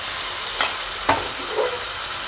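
Battered banana pieces deep fry in hot oil, a continuous loud bubbling sizzle with a few sharper crackles as pieces go in, close up and without speech.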